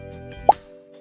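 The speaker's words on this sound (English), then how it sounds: "the sound which is already over there by default sound is pop sound" Scratch's default pop sound effect, a single short, close plop over a faint sustained background tone.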